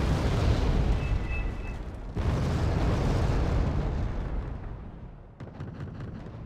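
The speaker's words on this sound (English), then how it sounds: "More bomb runs." Explosions from bomb runs in the Wargame: Red Dragon video game roll out as a dense, continuous rumble, with fresh heavy blasts striking at about two seconds and again near five and a half seconds.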